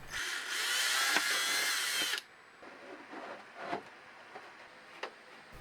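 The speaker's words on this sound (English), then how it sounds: "And drill." A power drill whines loudly for about two seconds while boring screw holes through a cowl on a 33cc Gilmore Red Lion racer model plane, then stops, leaving a few faint clicks and handling knocks.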